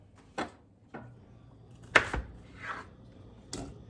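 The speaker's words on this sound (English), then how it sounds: "Take that and cut it up and throw it in there." An onion being cut up with a knife for Guatemalan carne guisada: about five separate sharp chops against a board, spaced unevenly, close and fairly quiet, with no talking.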